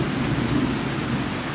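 Thunderstorm outdoors near a mature tree: steady, loud rain hiss with a deep continuous rumble under it, no distinct clap, and no voices.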